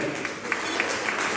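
An audience claps at an award ceremony honouring Comorian women: a brief, dense wash of crowd applause with faint rhythmic clap pulses, steady and moderately loud throughout.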